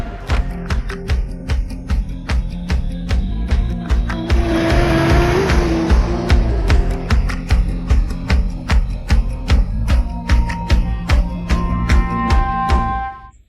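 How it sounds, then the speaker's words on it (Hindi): A car speeds along loudly and continuously, engine roaring with rapid rattling clicks and bursts, rising to a dense rush midway before cutting off abruptly at the end; no one speaks. "गाड़ी रोकिए ना"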